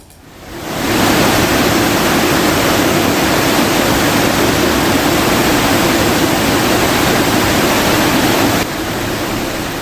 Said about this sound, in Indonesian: Debit air Kali Buntung meluap usai diguyur hujan deras.